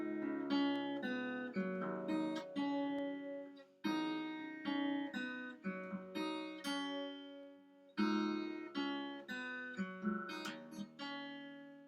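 An acoustic guitar plays the chords of a song with bass notes added, repeated strummed and picked chords ringing steadily and close, with no talk over them.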